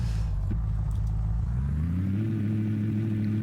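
A car from a Minecraft car mod driving in the game: a steady, droning engine hum that dips as the car slows for a corner, then climbs back up in pitch as it speeds away.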